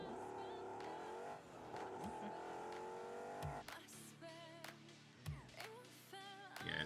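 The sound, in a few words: car engine revving in a video game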